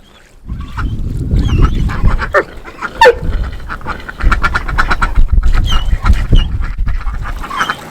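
A flock of ducks quacks loudly and close by near water, a dense overlapping chorus of harsh calls and splashy noise that carries on without pause and is not covered by talk.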